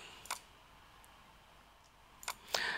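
Computer mouse clicks on an OK button, two or three faint, sharp close clicks separated by a quiet stretch of room hiss.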